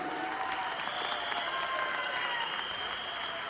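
Audience applause at a crypto business event, a dense, even wash of clapping from a sizable crowd that holds steady for the whole stretch.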